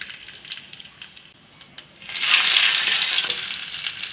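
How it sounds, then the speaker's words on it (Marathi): Mustard seeds, cumin and curry leaves tempering in hot oil: soft stirring and light crackle for about two seconds, then a loud, sustained sizzling burst as the leaves hit the oil, hissing on steadily to the end. "मोहरी छान तडतडली की जिरे घालायचे आणि नंतर कढीपत्ता घालून छान मस्त अशी फोडणी हलवून घ्यायची."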